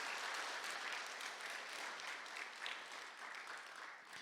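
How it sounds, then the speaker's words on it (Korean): A church congregation at a Friday late-night worship service claps together, a dense, even wash of applause sustained throughout, moderately distant and fairly soft. "다시 한번 우리 하나님 앞에 영광의 박수 돌리겠습니다."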